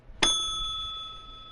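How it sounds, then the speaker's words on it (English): A notification bell chime, a single bright ding that rings out and decays slowly, clean and alone. "by smacking that notification bell"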